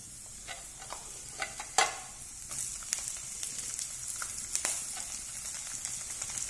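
Ginger and sliced onion fry quietly in a pan, a faint low sizzle broken by a few sharp clicks and scrapes of stirring.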